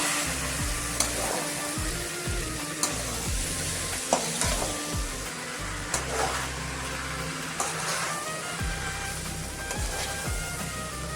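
Avarekai beans frying in a pan are stirred with a utensil, steady sizzling under repeated scraping and clacking strokes at irregular intervals, close up with no talking.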